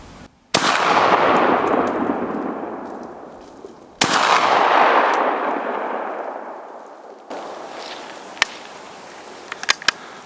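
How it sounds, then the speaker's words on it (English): Two loud shots from a Remington 1100 semi-automatic shotgun during a deer hunt, a few seconds apart, each with a long booming echo rolling away outdoors, followed by faint clicks. "We just heard 2 shots. From the 1100, the good old Remington 1100."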